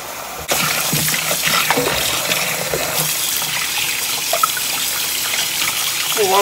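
Garden eggs (eggplant) washed in a bowl of water, with steady close splashing, trickling and sloshing throughout after a sudden start.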